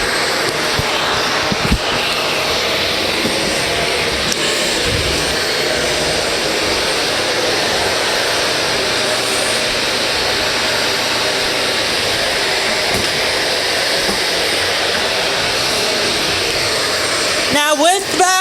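A vacuum cleaner runs steadily on a hardwood floor, a loud, constant whirring drone that holds for most of the stretch, with a brief clatter near the end.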